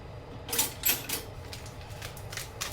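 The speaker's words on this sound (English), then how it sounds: "Get some scissors, cut it out." A few sharp snipping clicks of scissors cutting open a yeast packet, close by and fairly quiet, with faint rustling between cuts.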